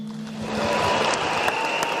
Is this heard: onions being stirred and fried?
no